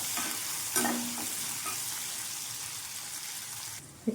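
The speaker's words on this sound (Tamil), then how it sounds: "இப்போது இது ஓரளவு வதங்கட்டும் நல்லா ரொம்ப கோல்டன் ப்ரௌனாலாம் தான் ஓரளவு மீடியமாக வதங்கட்டும் வெங்காயம்" Onions sauté in a pan for paneer kurma, giving off a steady, moderate hiss of frying with a few brief stirring knocks near the start. No one speaks, and the sizzle cuts off abruptly at the end.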